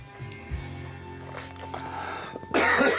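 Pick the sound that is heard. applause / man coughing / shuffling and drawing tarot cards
man coughing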